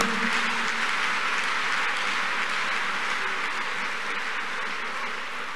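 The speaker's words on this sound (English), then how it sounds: "Let's clap unto God and appreciate him." Congregation clapping in a church, a dense, even wash of many hands applauding together that holds steady and slowly fades, with no talking.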